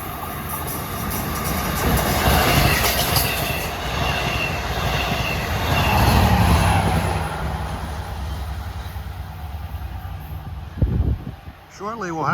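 LIRR train number 7 passing through New Hyde Park station during morning rush hour, a loud rolling rumble with wheel squeal and rail clatter that swells, fades, then ends with brief noise close by.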